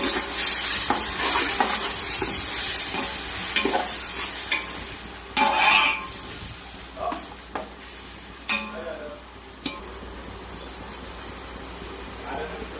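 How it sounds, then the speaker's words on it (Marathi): Biryani masala with garlic-ginger paste and chopped coriander is stirred in a hot pan. It sizzles steadily, with intermittent scraping and clinking strokes of the spoon against the pan, and a voice speaks now and then. "हे आता आपण याला हलवून घेऊ चांगलं"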